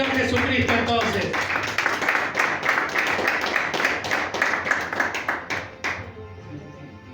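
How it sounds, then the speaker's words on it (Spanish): A church congregation claps steadily for several seconds during a Spanish-language service, loud and close with a fairly even rhythm, before the clapping stops near the end. "Un aplauso al Señor Jesucristo entonces."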